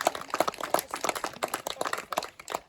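Dense, steady applause from an audience at the inauguration of the Lire sous les pommiers 2026 event, many hands clapping together in a continuous patter with no voices on top.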